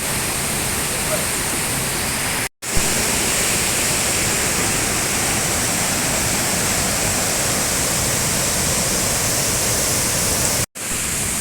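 Urulikkund waterfall in Kannur roars as a dense, constant rush of falling water, loud and close, with two brief dropouts in the sound.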